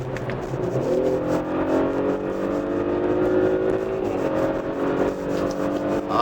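Audi SQ5 TFSI SUV accelerating hard on a straight road, its engine note rising steadily in pitch over several seconds with a brief dip as it shifts, heard from inside the cabin over road and tire noise.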